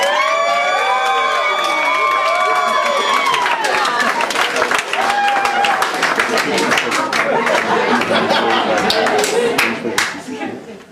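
Guests at a 50th birthday toast party burst into loud, sustained cheering and clapping, a dense wall of whoops and applause with voices mixed in, tapering off near the end.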